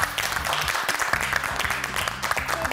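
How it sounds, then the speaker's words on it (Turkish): Studio audience applause on a Turkish daytime cooking competition show, a steady dense wash of clapping that fills the whole moment without pause. "Alkışlıyorum."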